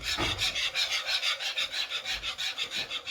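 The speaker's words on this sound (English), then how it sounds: "And then I'm just going to keep whisking," A whisk scrapes rapidly and rhythmically through a cheese sauce seasoned with nutmeg for cauliflower cheese, with fast even strokes close up and no voices.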